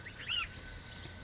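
Blue Swedish duck on a farm giving a single short nasal quack, fairly faint against quiet outdoor background, followed by the start of another call at the end.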